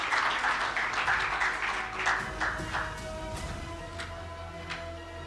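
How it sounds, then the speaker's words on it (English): A conference audience applauds a panelist walking to the platform, with dense clapping loud at first that gradually thins and fades over a few seconds. "So please, as he comes to the platform, again, give him a warm round of applause."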